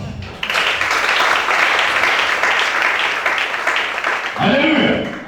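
A church congregation claps and cheers steadily for Charlie during a worship service, a broad, loud wash of applause running throughout with voices mixed in.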